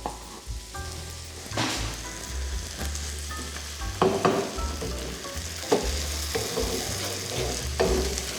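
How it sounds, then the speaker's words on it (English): Uncooked rice being stirred in a pan while cooking for a fennel, mushroom and leek risotto, with scraping strokes over a steady sizzle, close and fairly loud, no voices. "rice is in, give it a stir."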